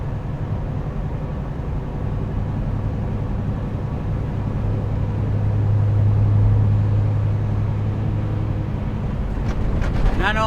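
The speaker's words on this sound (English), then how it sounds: "Truck seems to be running real well." A truck engine runs steadily while bobtailing with no trailer, a low continuous rumbling drone that swells slightly midway, heard from inside the cab.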